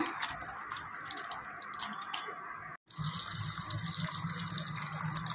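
Jackfruit seeds are rinsed under running water in a kitchen, with a steady quiet trickle and splashing that breaks off briefly midway and then resumes.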